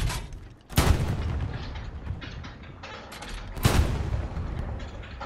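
Loud artillery blasts and gunfire in a Stalingrad Eastern Front battle game with Soviet troops and a tank, two big booms a few seconds apart over a steady rumble of distant combat, no voices.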